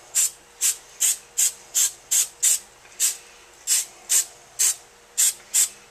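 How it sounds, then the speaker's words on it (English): Repeated short hissing sprays, about fourteen quick bursts in a steady rhythm, close up with brief quiet gaps between them. "I'm going to spray it anyway, just for fun, with this cooking spray"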